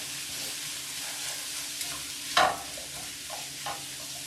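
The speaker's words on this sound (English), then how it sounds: "While that continues to saute" Pot roast filling sautés in a pan, giving a soft, steady sizzle with a brief clatter of stirring partway through and a few faint utensil touches after.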